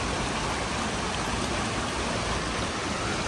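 Bridal Falls in New Zealand pours down in a dense, constant rush of water, loud and close, filling the short stretch without a break or any voices.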